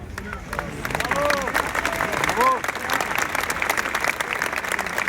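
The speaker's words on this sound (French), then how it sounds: "Merci pour ces applaudissements." A crowd at a police demonstration outside the National Assembly applauds steadily, dense and fairly loud clapping mixed with shouts and voices calling out over it.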